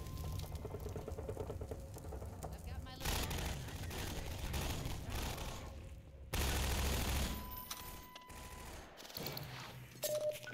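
Bursts of rapid gunfire erupt in a Half-Life 2 firefight aimed at the player, loud rattling volleys in several waves with brief pauses between, mixed with game effects and a voice talking over it.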